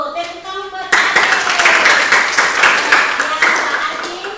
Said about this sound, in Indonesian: Tepuk tangan buat Adin